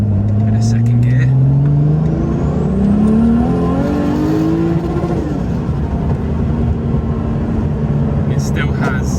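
A Lamborghini Murcielago accelerating hard in second gear, the engine note climbing loudly up to a rev limit before easing, close and in-car, with a voice speaking over it.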